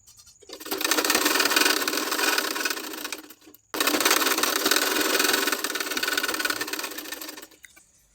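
Sewing machine stitching a sleeve border, running in two steady whirring bursts of a few seconds each with a short stop between, close and loud, no talk.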